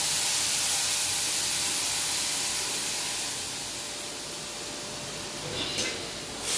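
Boiled milk poured into ghee-fried vermicelli sends up a broad continuous hiss of steam that fades slightly midway, with a short clatter near the end, close and fairly loud.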